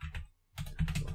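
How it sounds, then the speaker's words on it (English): Computer keyboard typing while notes are written during a Tomcat install on Ubuntu, with quick clustered keystrokes, a short pause, then a denser burst of clicks, close and fairly quiet with no talk. "I'm typing my notes over here"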